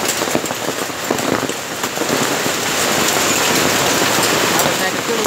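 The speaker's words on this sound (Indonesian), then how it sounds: "Hujan batu es." Hailstones pelt a village in a dense, steady clatter resembling heavy rain on roofs and ground, continuous and loud throughout, with voices speaking faintly underneath.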